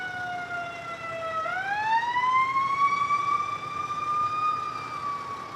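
A fire engine siren wails loud and close behind a moving e-bike, its rising and falling tone sliding as the truck passes, steady for several seconds.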